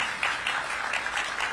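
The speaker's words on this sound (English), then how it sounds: "Give them a big round of applause." A brief burst of distant applause from an audience at a city event with the mayor: soft, steady clapping with no voices on top.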